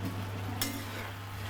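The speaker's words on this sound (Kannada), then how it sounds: "ನೆಕ್ಸ್ಟ್ ನಾವಿಲ್ಲಿ ಫ್ರೈ ಮಾಡಿಟ್ಟ ಗೋಬಿ ಇದಕ್ಕೆ ಹಾಕೋಣ" Fried cauliflower pieces are tipped into Manchurian gravy in a pan and stirred. A soft, steady sizzle runs under a brief clatter of the spoon against the pan, with no talking.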